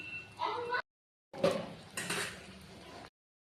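A metal lid set onto a pot of koi fish curry with cauliflower and potato, two short bursts of close clattering and clinking separated by a moment of silence.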